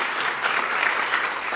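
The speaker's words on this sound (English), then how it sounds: "I'm going to clap to Bill" Conference audience breaks into dense, steady applause for Bill, a continuous wash of many hands clapping at close range with no voices over it.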